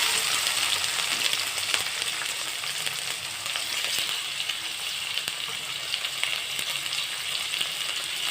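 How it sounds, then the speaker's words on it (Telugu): Cut tomatoes fry in hot oil with a dense, even sizzle that crackles steadily throughout, close and moderately loud, with no talking. "ఈ ఆయిల్లో ముందు మనం శుభ్రం చేసి పెట్టుకునే టమోటాలు ఈ విధంగా కట్ చేసి వేసుకోండి"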